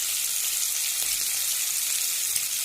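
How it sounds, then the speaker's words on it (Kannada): Chicken fries in oil with coriander and cumin powders, giving a loud, dense, even hiss of sizzling that stays close and steady throughout with almost no stirring. "ಚಿಕನ್ ಎಣ್ಣೆಯಲ್ಲಿ ನೀಟಾಗಿ ಫ್ರೈ ಆಗಬೇಕು"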